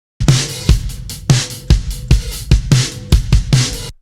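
A compressed and EQ'd recorded drum loop, its kicks and snares hitting louder and thicker in a steady repeating beat, with a fuller, denser body between hits.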